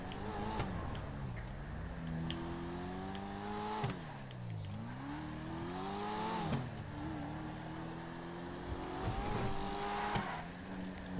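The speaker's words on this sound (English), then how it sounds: "You can hear the supercharger better in third person than you can in first" Supercharged car engine in a driving video game, revving and rising through gears with pitch sweeps and brief drops between shifts, steady and loud throughout with no talk.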